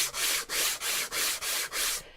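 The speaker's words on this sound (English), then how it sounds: "So the lines are all running vertically, so that is how we're going to sand this" Painted wood surface sanded by hand in vertical strokes to distress it, seven steady even rasping passes in a regular rhythm, close and alone.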